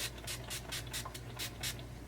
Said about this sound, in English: This is the NYX Dewy Finish.